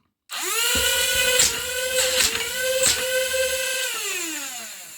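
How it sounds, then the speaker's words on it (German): A high, whining power saw runs steadily for several seconds, its pitch dipping briefly as it bites into material, with a few sharp clicks along the way. "Ich werde dann auch mal die Säge bemühen."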